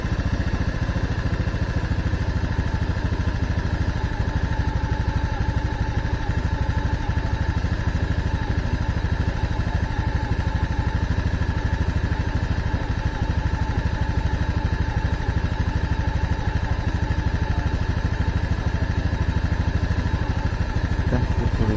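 A Honda Scoopy PGM-FI scooter with a weak ignition coil, since replaced by a Beat FI K25 coil, idles at roughly 1600 rpm. It gives a steady, loud, close mechanical hum that holds unchanged throughout, with no talking.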